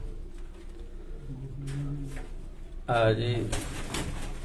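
A Lal Pari pigeon gives low, soft coos from close by under a voice, with a brief clatter and louder talk near the end.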